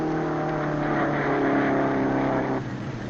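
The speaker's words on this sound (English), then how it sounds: "Here's Mel and the jalopy" An old jalopy car engine from the early 1950s drones loud and steady for about three seconds, a continuous rough motor hum that eases slightly near the end.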